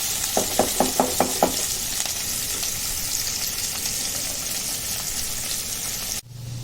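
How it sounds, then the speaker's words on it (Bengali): Chopped onions sizzle steadily in hot oil in a pan, a loud continuous frying hiss, with a quick series of sharp metal clinks from a ladle stirring near the start. "পেঁয়াজ কুচিগুলো দিয়ে একটু নাড়াচাড়া একটুখানি লাল হওয়া অবধি নাড়াচাড়া করবেন"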